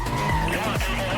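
A car skids to a stop in the racing game NFS Most Wanted, a short harsh tire screech over the engine roar with a voice speaking underneath.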